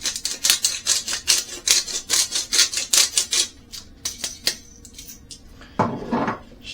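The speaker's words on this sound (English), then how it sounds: "Give them a little stir." Metal spoon scrapes and knocks rhythmically around a pot of wild rabbit stew, a quick run of close, bright strokes that slows to a few taps, then a louder scrape near the end.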